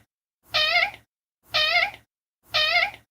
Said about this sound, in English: he meows because a combination of him meowing so quiet and also really high pitched